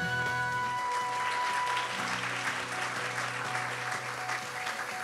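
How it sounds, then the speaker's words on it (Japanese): A symposium audience applauds to welcome a moderator, a dense, even crowd of clapping that holds steady throughout, with faint tonal hums from the hall sound system underneath. "皆様拍手でお迎えください"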